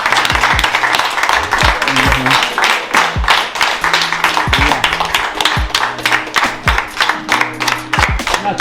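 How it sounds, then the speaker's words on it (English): An audience claps in a continuous, close, loud round of applause with a rapid irregular patter of hands, while a few tonal sounds and faint voices run underneath. "Again, we give them another round of applause."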